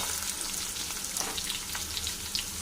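Tomato dropped into a pan of fried potatoes, setting off a steady frying sizzle with light crackles that keeps going close by at a moderate level.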